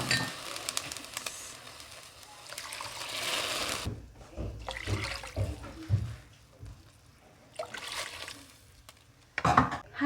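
Water pours into a cooking pot to make broth for Filipino fish tinola with sautéed lemongrass, a steady splashing stream for the first few seconds, then intermittent clinks and splashes in the kitchen.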